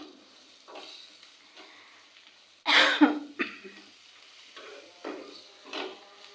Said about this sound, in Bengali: পেঁয়াজটা ভাজার সময় আমি দারচিনি, এলাচ, গোলমরিচ এগুলো দিয়ে দিয়েছি